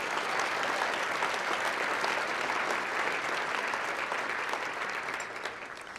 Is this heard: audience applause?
yes